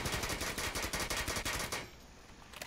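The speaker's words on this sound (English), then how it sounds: "They're shooting out this wall." Rapid automatic gunfire in Rainbow Six Siege, shooting out a wall, rattles off in a dense, loud burst of evenly spaced shots, then cuts off into quieter debris and ambient noise.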